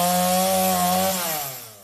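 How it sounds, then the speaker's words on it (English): A chainsaw cuts through a storm-fallen tree branch in a yard, its engine droning loud and steady before the pitch drops as the cut finishes, with no voices. "Just sounds of a chainsaw cutting two branches which fell off during the storm."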